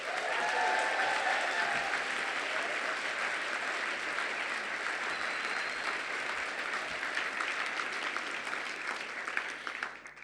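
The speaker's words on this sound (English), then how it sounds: "Put your hands together for the incredible Sinead Gleeson" Audience at a literary event in Dublin gives a long, steady round of applause, fairly faint and even throughout, with a few scattered cheers early on.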